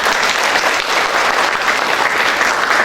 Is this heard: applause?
yes